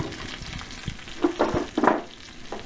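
Corned beef hash patties fry in a pan with a soft, steady sizzle, broken by a few brief louder crackles and scrapes.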